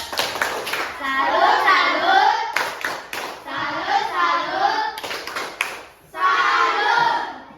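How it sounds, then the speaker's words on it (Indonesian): Schoolchildren in a classroom perform a 'tepuk salut' patterned clap, with bursts of rhythmic handclaps alongside young voices chanting together, close and lively. "Kasih tepuk salut."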